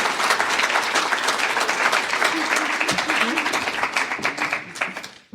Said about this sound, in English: Let's give a round of applause to Katie.